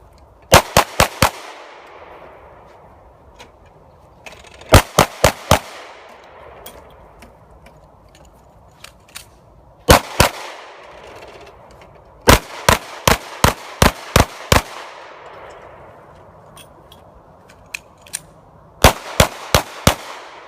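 Live-fire pistol shots during defensive shooting training, sharp cracks fired in quick bursts of two to six, separated by pauses of a few seconds, with a faint ring after each volley.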